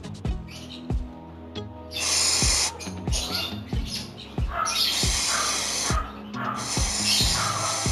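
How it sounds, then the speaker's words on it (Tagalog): Cleaner sprayed onto a scooter's clutch pulley and drive face in several sharp, hissing bursts, each lasting about a second, separated by short pauses and small clicks, close to the microphone. "pagka-spray pa lang"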